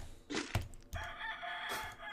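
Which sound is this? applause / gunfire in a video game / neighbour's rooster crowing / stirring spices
neighbour's rooster crowing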